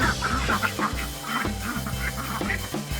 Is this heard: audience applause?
no